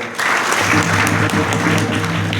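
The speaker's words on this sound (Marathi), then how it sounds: "आणखी एक टाळ्या वाजवा." Village crowd clapping at a Marathi kirtan gathering, loud, sustained applause that starts abruptly and carries on over a steady low hum from the sound system.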